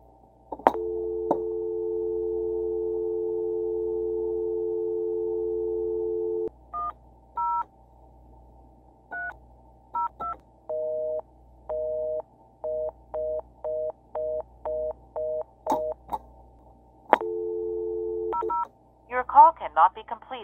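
A 1984 ITT Model 2500 touch-tone telephone gives a steady dial tone, then a run of short DTMF key beeps in quick rhythm. The dial tone returns, and a recorded voice begins at the end.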